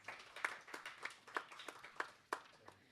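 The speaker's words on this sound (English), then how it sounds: "A huge round of applause, everyone." Scattered applause from a small seminar audience, light and somewhat distant, with uneven individual claps standing out over about three seconds.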